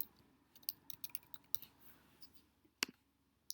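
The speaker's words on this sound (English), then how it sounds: "I'll just go ahead and type these in." Values typed on a computer keyboard, a scattered run of light, quiet key clicks with uneven pauses between them and no voice.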